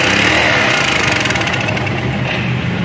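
A Honda 800 engine, revived after sitting dead for 14 years, runs at a steady, rough idle close by, with a dense even drone throughout and no voices.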